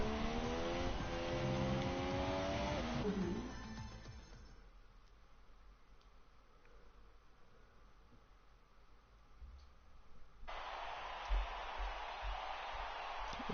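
A Williams Formula racing car in a Brazil race in a racing video game whooshes past with a rising, high-revving engine whine. The roar fades into a low muffled hum before a second loud burst of engine noise returns at the end.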